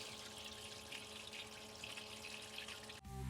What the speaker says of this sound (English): fire up the sluice, and let's get us some gold